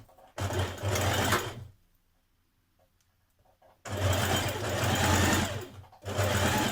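Sewing machine stitching a side seam of a tunic, two loud, steady whirring runs of about one and a half and three seconds, separated by a near-silent pause, then a brief restart.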